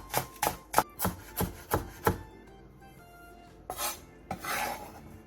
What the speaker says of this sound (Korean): 대파 2분의 1개를 쫑쫑 썰어주세요